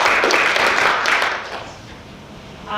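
A round of applause at an engineering education event, dense clapping that is loud at first and then fades toward the end.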